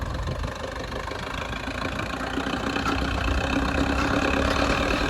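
Tractor engine pulling a fully opened nine-tine harrow in third gear across a Punjab field, a steady mid-low engine drone with a knocking edge that grows slightly louder and holds without pause, with no talk.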